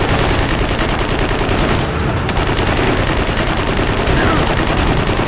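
Dense, continuous automatic gunfire from Warhammer 40,000: Eternal Crusade weapons, loud and close, with rapid overlapping shots forming a sustained roar that hardly lets up.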